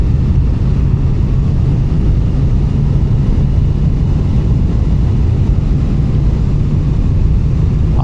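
Triumph motorcycle ridden on the road into town, heard as a loud, continuous low engine drone buried in heavy wind rush for eight seconds, with no talking.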